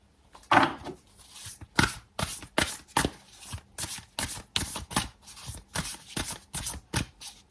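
Tarot cards are shuffled by hand in a quick, irregular series of crisp riffling bursts, about a dozen short snaps close to the microphone with soft pauses between.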